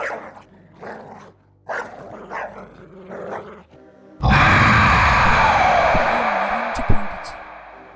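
Breathy, gasping growl-like noises come in bursts, then a loud sustained rumbling roar fills the rest with a sharp thump near the end.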